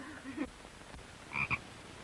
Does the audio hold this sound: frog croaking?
yes